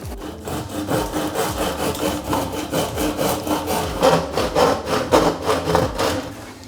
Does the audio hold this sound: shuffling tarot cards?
no